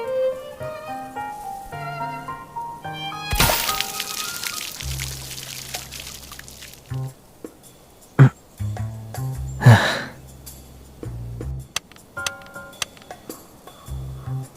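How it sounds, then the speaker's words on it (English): Rain suddenly pours down in a Love and Deepspace game scene: a dense, hissing burst of a few seconds cutting across soft background music, then fading back to music with scattered ticks. "The weather report didn't mention anything about localized rain today."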